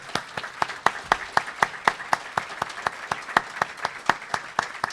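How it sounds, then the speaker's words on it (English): Listeners at a cybersecurity career panel clap for the panelists, a sparse, steady run of distinct hand claps at an even rhythm, fairly close and moderately loud, lasting throughout. "let's have a round of applause for our panel and thank them"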